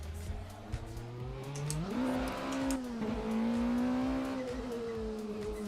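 A Formula B race car engine at Monza in a VR sim racing game, its tone climbing sharply through an upshift and then holding a steady, loud, near drone.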